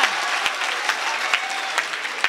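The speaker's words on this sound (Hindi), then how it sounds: "जोरदार तालियां बजा दीजिए" Applause from a Hindi comedy poetry audience at a kavi sammelan, a steady dense wash of clapping throughout with sharp accented claps recurring about every half second, fairly loud and close.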